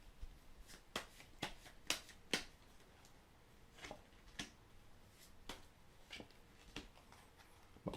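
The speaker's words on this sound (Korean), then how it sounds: "여기서 추가적인 설명을 하기 위해서 카드를 더 뽑아볼게요." Tarot cards being drawn from a deck and laid out: soft papery flicks, slides and light taps, close and quiet, scattered unevenly over a faint background with no voices.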